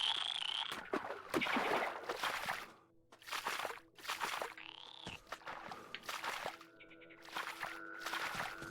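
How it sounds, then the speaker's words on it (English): Frogs croak repeatedly in the Metro Exodus game, set among splashing, footsteps and other game sounds, with bursts of croaking spread across the scene at moderate loudness. "How's the little frogs?"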